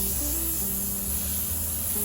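Tehila Cosmetic airbrush primer is sprayed onto a face, producing a continuous close, loud hiss that persists for about two seconds, with a faint tonal hum underneath.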